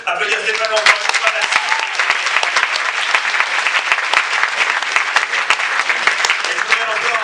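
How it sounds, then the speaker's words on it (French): Loud, close applause from the audience at a film festival closing ceremony, with crisp individual claps standing out from the dense sustained clapping throughout. "On peut applaudir Stéphane encore une fois."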